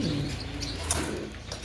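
Black Spanish pouter pigeons coo continuously at close range, a low soft murmur over steady background noise with a brief brighter chirp partway through.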